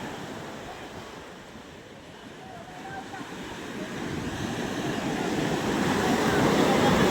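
Rough surf rolls in at the fishing terminal shore in Tanza, Cavite, a steady rushing wash with wind noise that builds louder toward the end as a wave surges closer.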